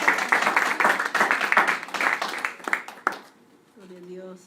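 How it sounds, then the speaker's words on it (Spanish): A church congregation claps in praise during a Spanish-language service, quick irregular clapping mixed with voices for about three seconds before fading into quieter sound. "Ríndele un aplauso al Señor."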